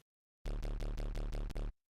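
A slightly distorted, topped-off sine wave sub bass plays seven loud, deep pulses in an even rhythm, starting abruptly after a brief silence and cutting off cleanly, with no voices.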